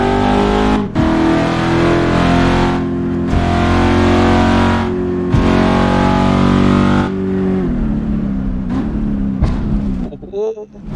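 A BMW X7 engine in a VR driving game revs hard and climbs in pitch on a straight road, cut by a few brief gear-shift drops, loud and close, ending in a short clatter.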